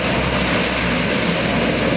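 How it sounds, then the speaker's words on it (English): A C-130 Hercules four-engine turboprop plane gives a loud, steady broadband roar with a droning engine tone, heard close and with no talking. "Its four turboprop engines are built with powerful reverse thrust capabilities to reduce the roll distance during short landings."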